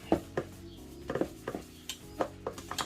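Dried homemade garri is worked through a sieve, producing a run of light taps, clinks and scraping rustles at an irregular rhythm, close by with no voices.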